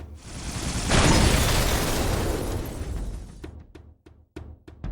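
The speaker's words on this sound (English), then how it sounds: "Simply by shooting 6 needles into a small radius, it creates a large super combine explosion." Heavy Needler super combine explosion in a Halo video game, a loud sustained blast with crackling debris that fades after a few seconds, followed by several sharp, distinct needle shots or pops.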